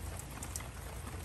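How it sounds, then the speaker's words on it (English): Steady rain pattering on a tent, moderate and continuous with a few brighter drop hits, heard close and alone without any talk. "All right, just to let you know that it is raining"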